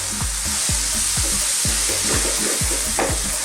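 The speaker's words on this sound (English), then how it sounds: "Let's give this a fantastic little mix up." Turmeric, cumin and coriander powder are stirred in a hot pan for beef curry. Quick scraping strokes, about three a second, run over a steady close sizzle.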